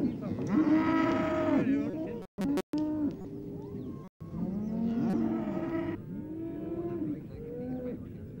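Several cattle moo repeatedly at a busy livestock fair day in Ballyhaunis, Ireland in 1971, their long lowing calls loud and near, overlapping one after another with brief gaps.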